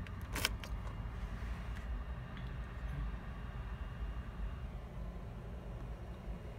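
Key on a 2015 Toyota 4Runner being inserted into the ignition, a short metallic click and jangle near the start, followed by a faint steady cabin hum.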